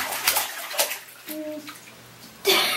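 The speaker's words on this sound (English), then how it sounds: "so I had to run some water, cold water in here." Cold water runs into a bathtub, a soft hiss under intermittent household noise with a brief tonal sound midway and a louder surge of splashing flow near the end.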